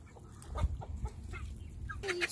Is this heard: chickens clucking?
yes